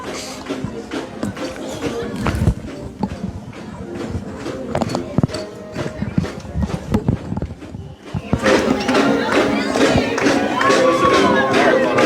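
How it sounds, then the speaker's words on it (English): Crowd noise at a high school football bi-district playoff game, with cheerleaders cheering amid a busy, clattering stadium; the sound swells louder and brighter in the last few seconds as voices rise together. "Watch our cheerleaders do some cheering"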